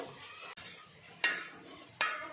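Split mustard dal being stirred and warmed on a hot iron tawa for a raw mango pickle: a soft, steady scraping broken by two sharp metallic clinks of the spoon against the pan.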